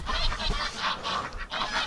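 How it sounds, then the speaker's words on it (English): Farm ducks in a barn quack and honk in a rapid, rhythmic series of nasal calls, fairly close and steady for two seconds. "Busy ducks."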